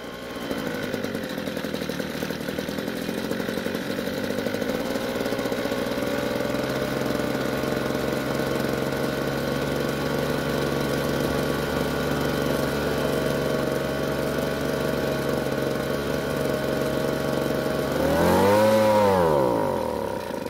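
A small two-stroke leaf blower engine runs on choke, a loud, steady buzzing drone close by that climbs in a brief rev near the end, with no talking.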